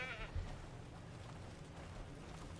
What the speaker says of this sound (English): there is the goat